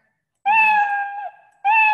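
The Scratch cat sprite gives two loud, clear synthetic meows, a longer one followed by a short pause and then a second that starts abruptly, with no one speaking.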